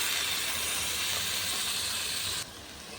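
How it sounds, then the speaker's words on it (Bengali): Rice and lentils frying in hot spiced oil, a steady broadband sizzle and hiss that holds evenly, then drops slightly in level near the end, with no talking. "চাল আর ডালটা দিয়ে একটু ভেজে নেব।"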